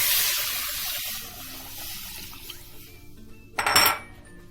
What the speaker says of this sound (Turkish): Şimdi içerisine 1 litre olan sütümüzü döküyoruz